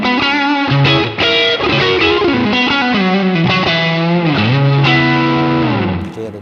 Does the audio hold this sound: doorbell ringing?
no